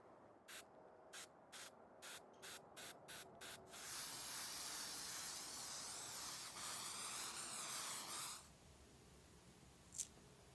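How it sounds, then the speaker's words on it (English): Quick short bursts from a spray can hiss in a rapid series, then a long steady spray runs for several seconds before stopping, followed by a faint click. "I'm also going to use spray adhesive to put these on."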